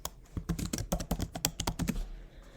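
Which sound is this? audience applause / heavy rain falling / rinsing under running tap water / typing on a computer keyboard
typing on a computer keyboard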